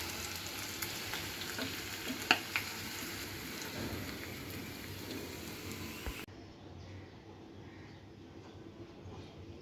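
Bitter gourd frying in hot oil in a home kitchen, a steady dense sizzle with a few sharp crackles, close and fairly loud, which drops to a quieter hiss partway through.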